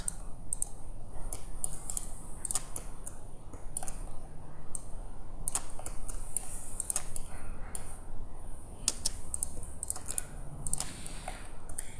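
Computer mouse clicking during SketchUp car-modelling work, a steady stream of sharp, close clicks in quick irregular runs, some doubled, over a constant low background hum, with no talking.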